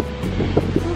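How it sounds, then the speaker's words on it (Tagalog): Strong wind blows at the seashore on Bantayan Island at dawn, a brief steady low roar of gusts battering the microphone, with no voices. "sobrang lakas ng hangin dito sa tabing dagat"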